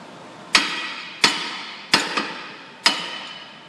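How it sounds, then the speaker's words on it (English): Four sharp metallic hammer blows on a front wheel bearing of a Ford Focus or Transit Connect ring out at uneven intervals, close and loud, one followed by a quick lighter rebound tap, with quiet between strikes. "we're going to wrap on it a couple times with a hammer and start to separate them"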